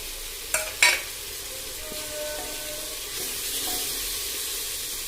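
Ground roasted spice masala of chilli, coriander, pepper, cumin, fennel, cinnamon, clove and cardamom with turmeric frying in oil for mutton curry, a low steady sizzle after two sharp utensil knocks, close and continuous.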